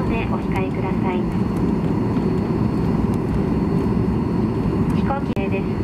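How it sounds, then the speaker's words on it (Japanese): A passenger jet taxis at night at Haneda Airport, a steady, loud engine and rolling rumble heard throughout, with voices over it. "飛行機です。"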